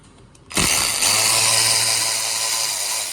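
A power tool whirs up loudly and runs steadily for about two and a half seconds while loosening a screw on the intake of a Volkswagen 2.0 TSI engine, with a brief clack just before it starts.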